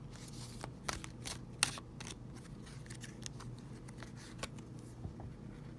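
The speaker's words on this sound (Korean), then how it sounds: "먼저 타로를 뽑아볼게요." Tarot cards are drawn and handled: soft, close card snaps and slides come as scattered single clicks and short shuffling bursts against a quiet low hum, with no talk.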